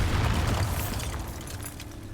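A Bombarda explosion spell in the video game Hogwarts Legacy bursts into a deep, loud boom that rumbles and slowly fades over about two seconds, with no speech.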